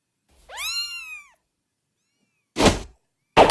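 A single high, sweeping cat meow from the video game Little Busters!, followed by two short dull thumps after a pause.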